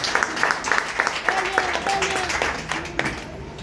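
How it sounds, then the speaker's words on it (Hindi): An audience applauds for Saroj Maurya with a short burst of rhythmic clapping up front; the clapping soon thins and fades as a voice starts talking over it. "मैं चाहूँगा कि सरोज मौर्य के लिए एक बार जोरदार तालियां"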